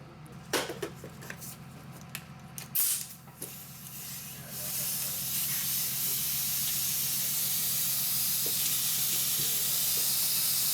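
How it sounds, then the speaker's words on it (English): DPF cleaner sprays from a pressure tank into the diesel particulate filter of a Mercedes/Dodge Sprinter, starting after a few clanks and knocks and settling into a steady, loud, continuous hiss. "now we're gonna spray this diesel particulate filter cleaner inside the DPF"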